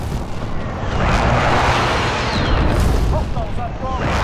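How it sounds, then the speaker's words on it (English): Airstrike explosions in Modern Warfare (2019), a heavy continuous rumbling barrage of booms with crackling debris, loud and dense throughout, with game voice chatter at the end. "Be advised, friendly precision airstrike inbound."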